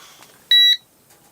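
A natural gas leak detector gives one short, sharp electronic beep when its APO (auto power off) button is held down, clear and close against a quiet background.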